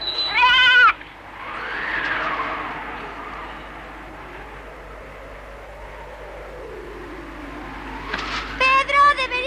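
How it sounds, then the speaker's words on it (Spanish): Goats bleat in an animated series: a loud burst of bleats at the start and another at the end, with a quieter background in between. "¡Deberíamos llevar las cabras a casa antes de que empiece a llover!"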